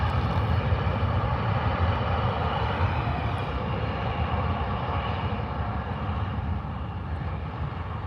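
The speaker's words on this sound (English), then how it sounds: "Dang, that was a loud takeoff." A WestJet airliner takes off at Calgary Airport with a loud, steady engine roar that fills the whole stretch and fades only slightly toward the end.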